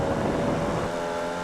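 A Formula Vee race car in iRacing at Winton Motor Raceway accelerates out of a corner, its engine droning loud and steady with a buzzy tone, heard alone from start to finish.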